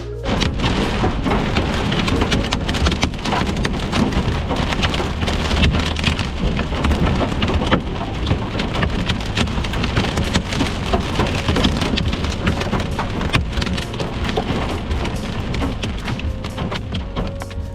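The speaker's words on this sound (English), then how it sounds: "we did not expect to get hit by another storm that was producing hail" Heavy hail and rain pound steadily on a hard surface during a storm, heard from a car parked in a car wash, a dense continuous clatter with low rumbles of thunder underneath.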